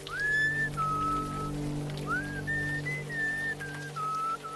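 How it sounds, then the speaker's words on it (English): Someone whistles an old sea shanty in the Unavowed video game at the St. George Ferry Terminal on Staten Island, a clear melodic tune of sustained notes that glide between pitches over a steady low hum and soft rain-like background. "Who's whistling?"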